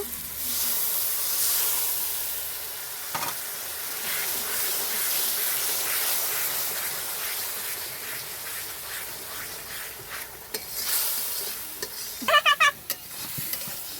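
Water-soaked chili and turmeric powder hit hot oil while cooking a homestyle country chicken curry, producing a loud, continuous hissing sizzle that fades slightly, then flares again with a few sharp crackling bursts near the end.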